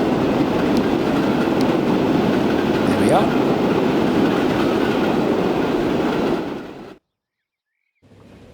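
A train rolls steadily along rails in the Transport Fever 2 game, a continuous loud rumble with clickety-clack under a voice, before cutting to near silence and a faint return at the end.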